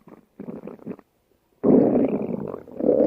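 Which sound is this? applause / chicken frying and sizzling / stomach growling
stomach growling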